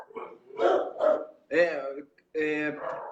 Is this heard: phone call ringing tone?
no